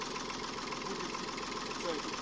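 A two-metre tractor engine idling and crawling slowly along a narrow crop row, a steady close mechanical drone with a low knocking rumble throughout.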